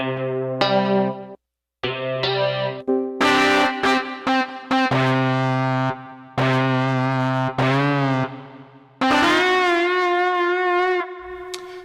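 Electric guitar with single-coil pickups played through a Peavey DPM 3 SE's distortion, loud chords and bent notes ringing out in bursts with short pauses, wavering with a chorus-like shimmer.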